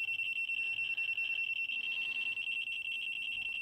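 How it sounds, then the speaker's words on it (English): A Geiger counter alarm sounding after the radiation reading climbs above 100 microsieverts, a continuous high-pitched electronic beeping tone that pulses rapidly and steadily, moderately quiet, with no voices. "it looks like when it goes over 100 microsieverts, it goes into alarm"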